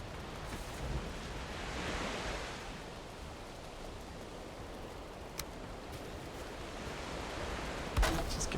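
Ocean waves in Valheim roll in a soft, continuous hiss of surf, faint and diffuse with gentle swells, broken by a couple of small clicks and a brief thump near the end.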